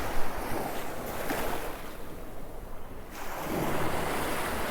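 Ocean waves break and wash up a sandy beach, a loud, continuous roar of surf with wind buffeting the microphone, swelling again near the end, with no voices.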